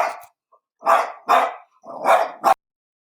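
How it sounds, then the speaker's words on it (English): A dog barks four times in a loud, close, irregular series, each bark sharp and full, with short silent gaps between them and no talking. "Sorry, Sal's barking."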